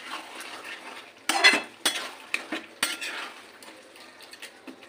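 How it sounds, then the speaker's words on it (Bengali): Capsicum, onions and potatoes are stirred in a pan, with a utensil scraping and clattering in a few sharp bursts over a faint sizzle, close and fairly quiet. "আবারও আমি ওপর নিচে ভালো করে নেড়ে নেবো।"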